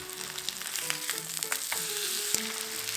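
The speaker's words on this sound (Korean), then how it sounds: "양배추전 부쳐서 달걀 올려 먹으면 맛있습니다" Cabbage pancake batter made with flour, salt and pepper frying in a pan over medium-low heat, a steady close sizzle with small pops and crackles throughout.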